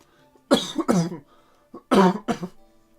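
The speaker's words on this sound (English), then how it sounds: "it's so bad I need to cough" Several harsh coughs in two clusters, close and fairly loud, separated by a brief quiet gap.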